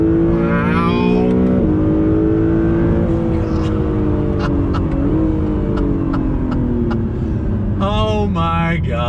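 An Acura NSX sports car is driven at full throttle, its engine revving hard in climbing sweeps with quick gear changes and a final surge, loud and close from inside the cabin, with a brief exclamation near the start.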